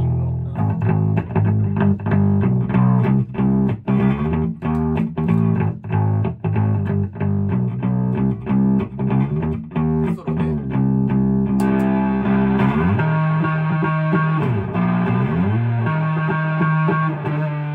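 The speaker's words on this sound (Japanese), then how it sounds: "この辺から歪み始めるから" Electric bass run through a distortion pedal on a Boudou bass, with a backing chord track underneath, playing a loud, steady riff of repeated plucked notes that grows thicker and more saturated partway through.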